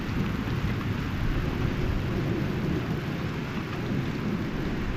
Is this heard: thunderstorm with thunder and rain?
yes